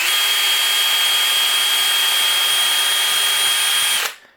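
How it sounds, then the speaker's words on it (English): A power drill whines steadily and loudly while pre-drilling into a wooden dowel, holding one high pitch for about four seconds before spinning down and stopping abruptly. "we're going to pre-drill the dowels"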